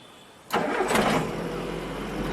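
A 2007 Suzuki Carry pickup engine cranks and catches after a brief quiet moment, bursting into a loud start and then settling into a steady, close idle with no one speaking.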